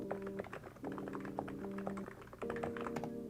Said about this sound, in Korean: 이 보슬보슬한 타건 소리 들리십니까?